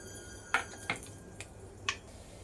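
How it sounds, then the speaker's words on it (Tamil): Mustard and fenugreek seeds splutter in hot oil in a few sharp, scattered pops, about four crisp cracks spaced apart over a quiet background. "இப்போ கடுகு வெந்தயம் ரெண்டும் பொரிஞ்சிருச்சு."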